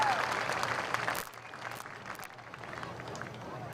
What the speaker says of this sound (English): how about a big round of applause for these riders and their classic horses